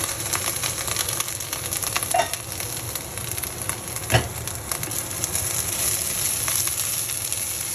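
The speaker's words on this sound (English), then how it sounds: "I've added in my broccoli rapini tops, and we've been braising for about 10 minutes now." Broccoli rapini tops braise in a pan with a continuous soft sizzle and bubbling, plus a few faint clicks and one brief knock partway through, with no talking.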